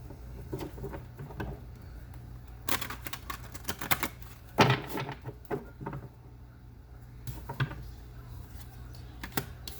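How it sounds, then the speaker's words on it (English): A deck of tarot cards is shuffled by hand, giving irregular crisp riffling bursts and soft slaps, close and fairly quiet, with no talk. "one more shuffle."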